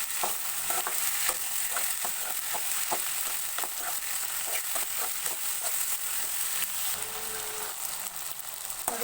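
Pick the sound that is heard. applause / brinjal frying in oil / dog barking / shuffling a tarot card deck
brinjal frying in oil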